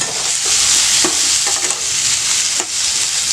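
Ridge gourd sautés loudly in a pan for a chutney, a dense continuous sizzle broken by a few scraping stirs from a spatula.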